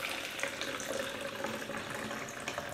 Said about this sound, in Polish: i leję sobie tutaj wodę.